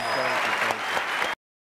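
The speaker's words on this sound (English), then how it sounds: "Please give a round of applause" A crowd applauding loudly at PlayStation Experience 2015, dense clapping that cuts off abruptly into silence.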